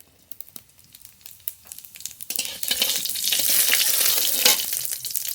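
Whole cumin seeds hit hot oil for a tempering, starting with a few scattered crackles and then bursting into a loud, dense, continuous sizzle up close.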